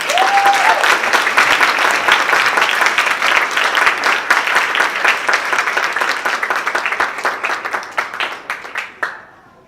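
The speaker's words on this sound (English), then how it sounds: "Let's give her another round of applause" Applause for the keynote speaker at a 2018 dental school white coat ceremony: a loud, dense clapping crowd with a short whistle near the start, thinning into scattered claps before stopping abruptly.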